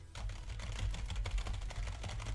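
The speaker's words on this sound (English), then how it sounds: "I'm typing it up, man. I'm typing it." Rapid, uneven clicks of typing on a computer keyboard run continuously over a low background hum, close and moderately quiet, with no speech.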